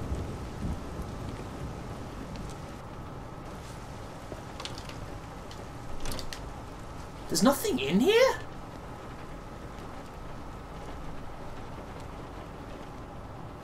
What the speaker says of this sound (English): I like the sound of rain on the roof.